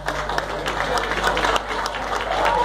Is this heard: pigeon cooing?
no